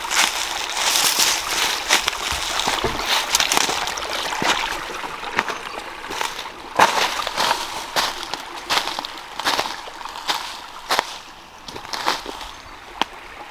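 River water sloshing and splashing as someone wades across a mountain river, irregular close splashes and swishes over a steady rushing stream.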